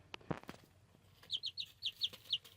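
Silkie chickens cluck nearby, a few soft sounds at first and then a run of six quick high evenly spaced calls, faint and free of talk.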